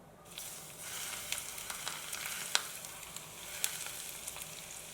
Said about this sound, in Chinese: 碗里面放入辣椒粉、蒜末、白芝麻，再浇上热油。